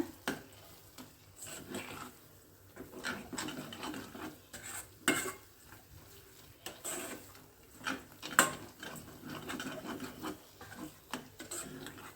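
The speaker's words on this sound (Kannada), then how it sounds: "ಒಂದು ಚೆನ್ನಾಗಿ ಮಿಕ್ಸ್ ಮಾಡಿಬಿಟ್ಟು ಫ್ರೈ ಮಾಡ್ಕೊಳ್ಳೋಣ" Fenugreek leaves mixed with salt and fried in a pan, heard as soft, quiet, irregular spatula scrapes and clinks against the pan over a faint low sizzle, with no voices.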